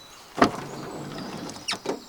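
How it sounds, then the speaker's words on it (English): A camping vehicle's sliding side door moves with a brief loud clunk near the start, then a steady rolling whir and another thud toward the end, close by with no talk. "great sliding doors"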